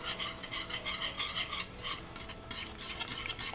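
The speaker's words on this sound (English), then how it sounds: "Don't forget to stir the soup." A utensil scrapes and rubs round the bottom of a pot of thickening potato soup, making rhythmic gritty strokes with short pauses, close and fairly clear.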